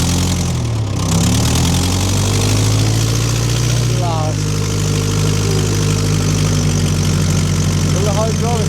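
A stiff, hard-starting engine on a machine with hydraulics runs after a third start attempt, a loud steady idle with a low throbbing drone, the revs shifting slightly near the start and middle.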